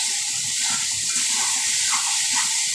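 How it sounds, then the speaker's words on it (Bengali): Water pours into a cooking pan partway through a home-style curry once the masala is browned, giving a steady close hiss and gush that runs evenly throughout with no talk. "এবার জল দিয়ে দেবো"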